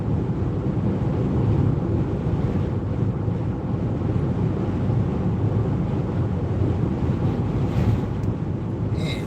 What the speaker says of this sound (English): listen to that wind.